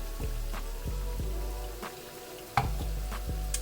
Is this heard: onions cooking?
yes